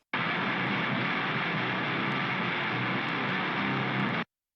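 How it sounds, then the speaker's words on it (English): Grindcore guitars distorted through an HM2 pedal produce a dense, continuous, roaring wall of buzzing fuzz, loud and unbroken for about four seconds before cutting off abruptly. "And then with that little bit of processing on the HM2 sound like this."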